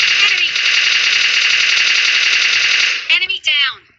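A rapid automatic gunfire spray in the mobile game PUBG Lite, loud and continuous for about three seconds, then breaking into a few short bursts.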